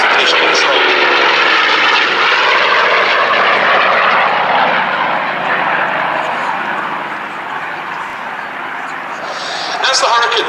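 Supermarine Seafire PP972, a naval Spitfire variant, flying past at the Duxford air show: a loud, sustained piston-engine drone that holds steady, fades slightly midway and swells again near the end, with no talk in the foreground.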